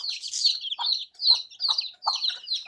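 A brown hen with her chicks gives soft low clucks among a stream of high, thin peeping chirps from the chicks, close and clear in short repeated bursts, with no talking.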